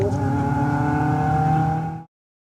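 A Ford Escort race car powering up a hillclimb course near the finish, its engine holding a loud, steady high-revving note for about two seconds before cutting off abruptly.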